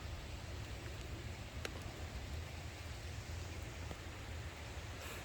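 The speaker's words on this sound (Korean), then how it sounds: "비 오니까" Steady, soft rain falls outdoors as a continuous even hiss with a faint low rumble, distant and quiet, with a couple of tiny drips or taps and no talking.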